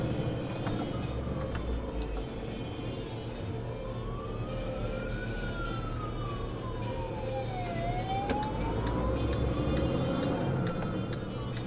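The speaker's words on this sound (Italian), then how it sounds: "Io mi fermo per far passare l'ambulanza" An ambulance siren wails on the road, sweeping up and down in steady rising and falling tones over loud, continuous traffic rumble, passing close by without any talk.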